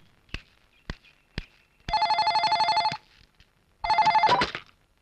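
Two bursts of a ringing telephone bell, each about a second of rapid trilling, separated by a pause and preceded by a few sharp knocks or footsteps.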